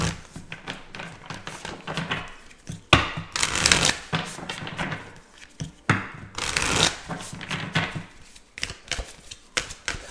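Wild Offering oracle cards are riffled and shuffled by hand in repeated bursts, crisp flapping rushes separated by softer taps and slides of the deck, close and without speech.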